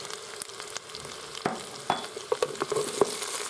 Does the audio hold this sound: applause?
no